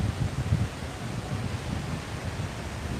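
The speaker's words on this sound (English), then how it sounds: "That's how windy it is." Strong wind outdoors in Las Vegas buffets the microphone with a continuous low roar in uneven gusts, loud and close, with no talk.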